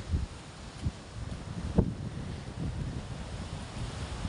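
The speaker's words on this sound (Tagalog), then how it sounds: "Medyo malakas-lakas pa ng hangin." Strong wind blows by the sea near moored fishing boats, a steady broadband rush with surf-like swells and one brief gust or bump near the middle, heard on its own with no talking.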